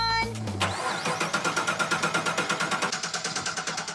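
A 2013 car engine running on moonshine fuel cranks with the starter's rhythmic whir, catches, and settles into a pulsing, uneven idle with regular beats, close and loud.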